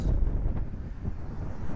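Steady low headwind rumble buffeting the microphone on a road in Sumatra, Indonesia, loud and continuous, with no voices.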